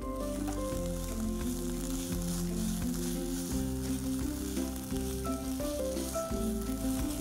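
Ginger garlic paste fries with onions in a pan, giving a steady, close sizzle that runs unbroken throughout, with a low tonal hum beneath it and no talking.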